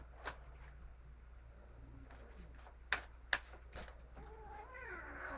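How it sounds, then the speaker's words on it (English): A cat meows and caterwauls a few times while a large puppy pesters it on a bed, the cries rising over sharp rustling and thumps in a quiet room. "Daisy, leave the kitty alone."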